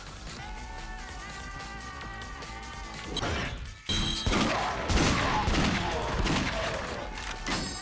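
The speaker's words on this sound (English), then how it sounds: "This gunfire is very fast, and it's also very, very, very strong." Rapid gunfire in the video game Yakuza: Dead Souls, dense fast bursts and crashing impacts that build after a calmer stretch of game music and effects, loud and continuous to the end.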